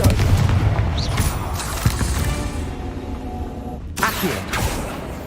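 Confringo spell explosions in the video game Hogwarts Legacy, a heavy, rumbling boom that fills the scene, followed by a second sharp blast with crackling debris.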